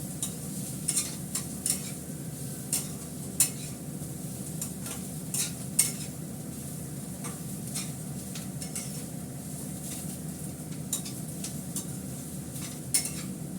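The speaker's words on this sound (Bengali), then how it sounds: "সবসময় এটা নাড়তে হবে, নাহলে পোড়া লেগে যাবে।" A papaya and potato curry being stirred in a wok: steady low sizzling under repeated clinks and scrapes of a utensil against the metal pan, irregular but continuous, close and with no talking.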